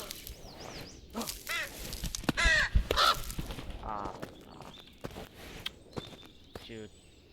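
Crows caw in the climbing game Peaks of Yore: repeated harsh calls scattered through several seconds, alongside footstep-like taps and other game sounds.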